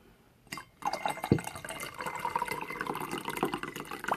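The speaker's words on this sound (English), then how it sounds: "Time to pour a little bit more." Cinnamon rooibos chai tea is poured into a cup after a short quiet start, with a sharp clink followed by a steady trickling splash of liquid that carries on to the end.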